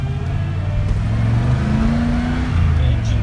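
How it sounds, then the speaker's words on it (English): A Ford F-250 truck engine runs at a steady idle, loud and close, with a low rumble and a slight rise in pitch partway through. "The engine sounds pretty good."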